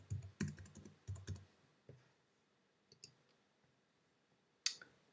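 Bursts of keystrokes click on a computer keyboard in quick clusters as a username and password are typed, followed by a few isolated taps and one sharp final key press, close and fairly quiet.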